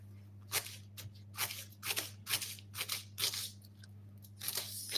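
Fresh okra is sliced through the middle with a knife, a run of about ten crisp crunchy cuts in uneven rhythm, close and fairly quiet, with a low steady hum underneath.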